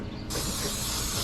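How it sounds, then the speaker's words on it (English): Pam cooking spray misted onto a grill basket before fish goes on, a short close pressurised hiss that starts abruptly and holds steady to the end. "I like spraying down a little Pam"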